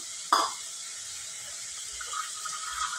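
Water splashes into a pan of cooked cabbage and lentils with a brief burst at the start, then runs as a steady pour. No talking.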